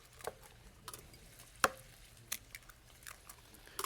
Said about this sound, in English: I like to crack my eggs on a flat surface as opposed to the side of the bowl